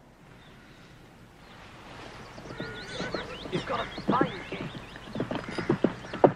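A horse neighs and its hooves clip-clop, starting quiet and growing louder and closer, with irregular knocks building toward the end and a voice speaking briefly over it.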